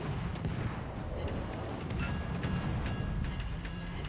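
Naval gunfire in the World of Warships video game, with the ship firing at an enemy Shimakaze destroyer: a dense, steady roar of rumbling cannon booms and crackling impacts, loud and continuous with no voices.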